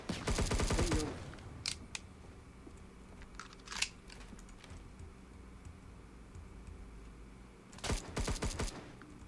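Automatic gunfire in the Roblox game Operations: Siege: a loud rapid burst at the start, scattered single shots and clicks in the middle, then another close rapid burst near the end.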